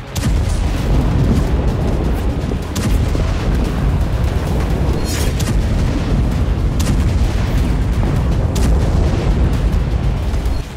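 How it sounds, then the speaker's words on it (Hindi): Phosphorus bombs explode over Gaza in a dense, continuous rumble of booms and bursts, several sharper blasts standing out at intervals against a loud, roaring background. "इन बमों की आवाजें गाजा पट्टी में दूर दूर तक सुनाई दे रही थी।"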